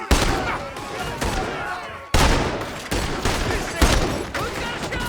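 Gunfire rings out in a Red Dead Redemption 2 shootout, with loud, dense bursts of shots that crack and echo one after another for several seconds. Shouting voices are mixed in.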